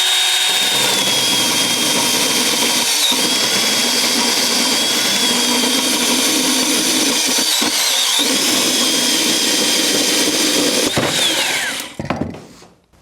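A Hilti Nuron cordless band saw cuts steadily through a heavy, solid metal piece, a loud, continuous close-up whine and grind that stops abruptly near the end.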